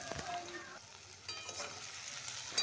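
Chopped onions fry in oil in a wok after whole spices are tempered, a soft, steady sizzle with a few spoon stirs and clinks, fairly quiet and without talking.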